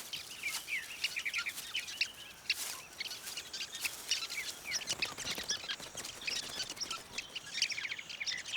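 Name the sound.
sociable weaver birds calling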